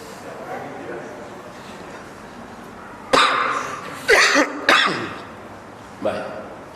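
A man with a week-long cough, speaking at a religious lecture, coughs in four sharp bursts. Three come close together in the middle and one follows a moment later, rising out of a quiet room.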